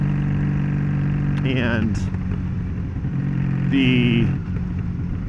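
A stripped-down motorcycle with no bags or windshield runs steadily, its low engine drone continuing throughout while someone talks over it.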